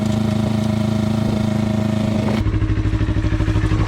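2021 Yamaha R3 motorcycle engine running at the edge of a garage, a loud, steady close idle whose tone shifts partway through, with no talking over it.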